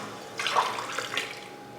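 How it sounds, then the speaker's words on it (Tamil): Water splashes and pours into a cooking pot while preparing dal rice (paruppu sadam), a short, close splashing burst that fades quickly in a quiet kitchen. "இப்போ இதில் தண்ணி சேர்த்துருவோம்"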